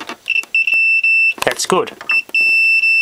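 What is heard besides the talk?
continuity tester beep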